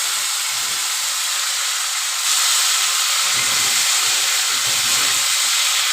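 Potatoes go into a kadai of hot oil with cumin seeds, and a steady hissing sizzle rises noticeably louder partway through and carries on close up, with no voices.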